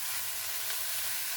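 Steady, dense sizzling of peppers, carrots and cabbage stir-frying in hot oil for Asian fried rice, a close continuous hiss with no pauses.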